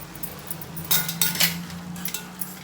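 Chopped fenugreek leaves go into a pot of mutton curry, with a few soft metallic clinks and a spoon scraping against the pot, low and close, over a faint steady hum, with no talking.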